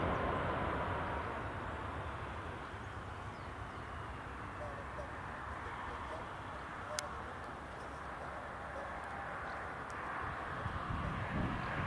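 A Luftwaffe Airbus A321neo arriving at Newcastle Airport, heard as a steady, fairly distant jet engine roar that holds for the whole stretch, with a brief click partway through.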